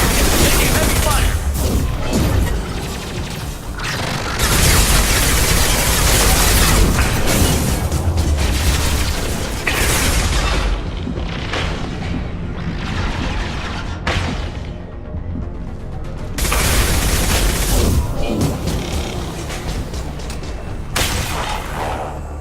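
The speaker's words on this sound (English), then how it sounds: "Taking heavy fire." Heavy gunfire rattles almost nonstop in the video game Mass Effect 2, loud overlapping bursts and booming impacts filling the whole stretch, with a voice speaking over the din at times.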